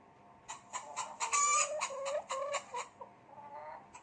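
A hen clucks in a quick series of sharp, rhythmic calls, fairly close, then trails off into softer murmurs.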